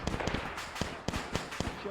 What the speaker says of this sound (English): That was a great grenade, that weren't it?